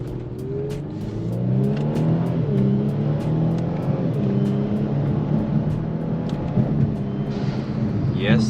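A Kia Stinger GTS in sport mode accelerates hard, its engine rising and dropping in pitch through paddle downshifts, loud and sustained from inside the cabin, with a voice speaking over the engine.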